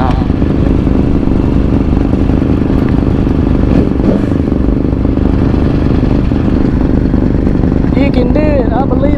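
Yamaha R1 sport motorcycle engine failing in traffic, running rough and putting along with a steady loud sputtering drone, mixed with road noise and a voice talking throughout.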